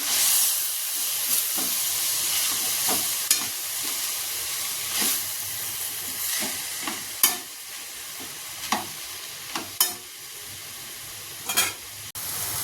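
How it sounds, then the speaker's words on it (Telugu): Shredded cabbage fries in a pan while a spatula stirs it, giving a steady hiss broken by sharp scraping and clattering strokes that come more often toward the end, close and alone with no voices. "క్యాబేజీ వేసుకొని బాగా కలుపుకోవాలి"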